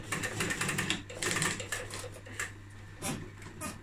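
Sewing machine finishing a backstitch on upholstery for a custom car trunk lining, stitching in a rapid, steady run with a few brief pauses, fairly close and alone.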